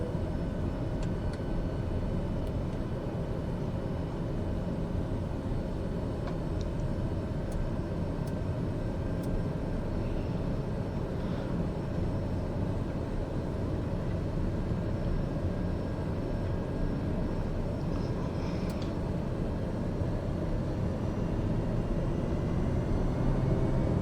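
A TBM 850 turboprop aircraft on its takeoff run produces a loud, steady broadband roar from inside the cabin, with a continuous engine drone that holds level throughout and no talking.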